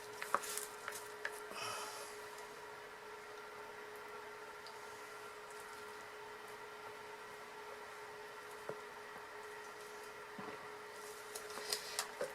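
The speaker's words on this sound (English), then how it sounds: "We'll scrape this out here on top." Lavender goat milk soap being scraped across its top surface, a soft continuous rubbing rasp with a few faint clicks, steady and close with no talking.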